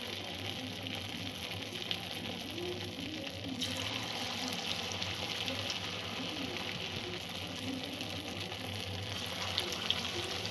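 Chhana bora, cottage cheese fritters, frying in hot oil a few at a time, giving a steady soft sizzling and bubbling that stays even and fairly faint throughout.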